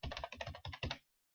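Rapid typing on a computer keyboard while naming a new folder, a quick close burst of about a dozen clacking keystrokes in uneven groups, ending abruptly in silence.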